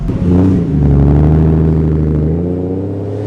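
A car with a 1JZ engine swap accelerates hard at a track, its loud, close engine rising in a steady revving drone that holds for several seconds.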